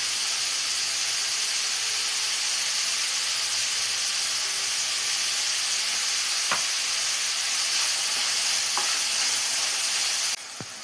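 Onions sautéing in hot oil until golden brown, a steady close sizzle and hiss filling the whole stretch, with a few brief stirring scrapes and no voices.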